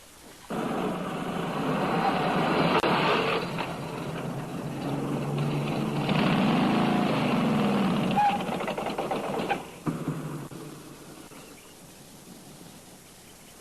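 A steady motorcycle-and-sidecar engine drone runs for about nine seconds, rough and continuous, then drops off abruptly and fades to a faint rumble.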